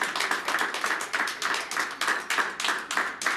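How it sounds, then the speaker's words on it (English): Audience clapping at a radio station launch event in London, steady rhythmic handclaps repeating in regular pulses, fairly close and continuous with no talk over them. "Just keep clapping."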